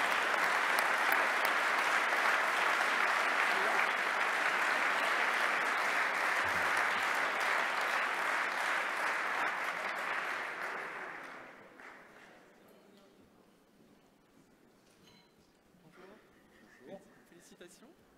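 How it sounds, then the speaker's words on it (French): A large audience applauds the mayor of Marseillan at an awards ceremony. The clapping is a dense, steady roar for about eleven seconds, then fades out, leaving a quiet room with faint stirring. "Je vous demande d'applaudir Monsieur le maire, Yves Michel."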